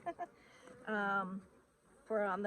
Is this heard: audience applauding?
no